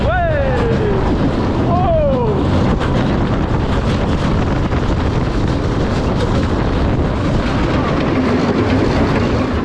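A vintage roller coaster train at Busch Gardens Tampa roars steadily through a helix, loud rushing wind and rumbling rails filling the whole stretch, with a rider's excited voice near the start.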